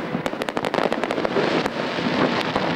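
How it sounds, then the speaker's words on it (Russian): Fireworks salute volleys at a jubilee city day celebration in Yekaterinburg crack in a rapid, loud string of sharp bangs, then settle into a dense crackling roar. "До молнии в небе успели прогреметь залпы салюта."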